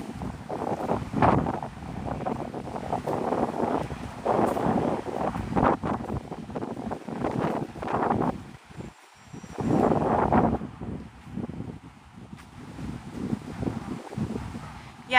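Strong gusts from an approaching storm at Santa Rosa Sound in Navarre, Florida, buffet the microphone in a continuous rough roar that swells and dips, with brief lulls between heavy blasts.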